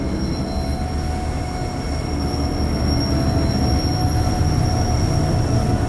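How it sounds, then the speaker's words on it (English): A long Adelaide-to-Melbourne freight train rumbles steadily past at close range, its wagons grinding on the rails with a faint wheel squeal, growing slightly louder throughout with no voices. "Today, Nathan is awoken by the Adelaide to Melbourne freight train."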